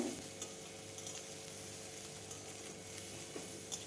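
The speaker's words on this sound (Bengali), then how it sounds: "এরকম ভাজতে ভাজতে সেদ্ধ হয়ে যাবে হালকা হালকা জল বেরোবে লবণ দেওয়ার ফলে এইভাবে নাড়তেই থাকবো" Vegetable peel paste with turmeric and salt being fried and stirred in a pan over medium heat, a soft continuous sizzle with faint scraping stirs, quiet and close, no voices.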